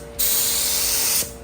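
A paint spray gun sprays paint onto a Kia Optima in one steady, loud hissing burst of about a second, starting and stopping cleanly.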